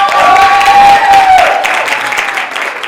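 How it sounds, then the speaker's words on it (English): Audience at an animal rights conference talk clapping and cheering, a loud, dense burst of applause that gradually thins, with a tonal whistle-like ring over the first half. "Can we give a big round of applause for her?"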